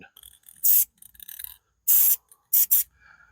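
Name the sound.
spray paint can spraying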